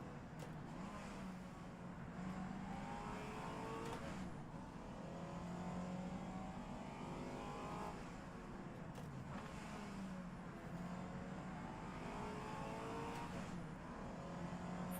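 A white Porsche race car in the rFactor 2 racing game at the Targa Florio approaches, its engine note rising and falling through faint revving and gear changes, distant and quiet throughout with no voices.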